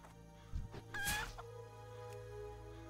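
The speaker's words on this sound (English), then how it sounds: "There was another chicken there." A chicken in a Lord of the Rings video game gives a few short, close clucks in a quick cluster, with faint game ambience around them and no talking.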